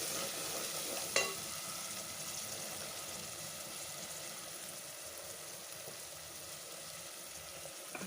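Tomatoes with green coriander, mint and curry leaf being stirred in a pan for a dhalcha lunch dish, giving a steady close sizzle and faint stirring scrape throughout, with one sharp clink near the start.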